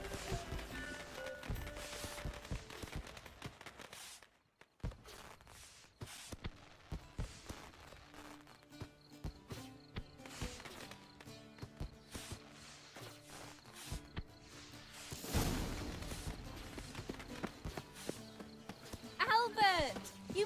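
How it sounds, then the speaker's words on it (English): Horse hooves clip-clop in The Witcher 3, trotting in quick rhythmic patters that come and go in bursts, fairly close and loud, with a pause midway and heavier hoofbeats near the end. "Saddled horses await in the stables."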